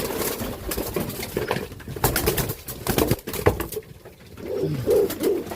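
Pigeons cooing close by in low, throaty bursts, mixed with rustling and fluttering movement; no talking.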